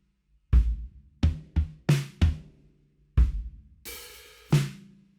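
A short drum kit groove played close and loud, with punchy kick and snare hits in a syncopated pattern and an open hi-hat washing out near the end of the phrase, no voices.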